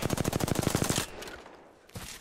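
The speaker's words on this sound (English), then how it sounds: "What are you shooting at, Paul?" Rapid automatic gunfire in a first-person shooter video game, a tight burst of about a dozen sharp shots for one second, then a single later shot, loud and close.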